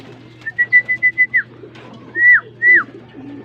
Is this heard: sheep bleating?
no